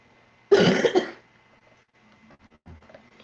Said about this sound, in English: I don't have anything else but this bad cough, wheezing.